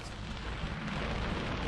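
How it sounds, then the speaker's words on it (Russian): Rain drums on the roof of a Maggiolina roof-top tent on a car during a wet camping day, making a quiet, continuous patter of drops with soft low rumble and no voices. "Барабанит дождь по крыше"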